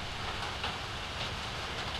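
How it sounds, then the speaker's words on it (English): Rain in the horror video game Outlast: a constant broadband hiss with a low rumble under it, steady and fairly loud, with no talk. "This rain isn't exactly helping."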